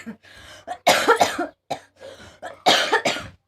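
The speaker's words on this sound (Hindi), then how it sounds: "देखो खांसी हो रही है" Two bursts of harsh coughing, each a quick cluster of hacks, close and loud, separated by quieter breathy sounds.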